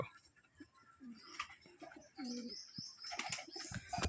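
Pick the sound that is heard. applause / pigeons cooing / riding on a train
pigeons cooing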